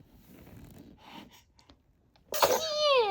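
A child sneezes once, sharp and close, with a noisy burst that trails into a squeaky gasp, after a stretch of faint background murmuring.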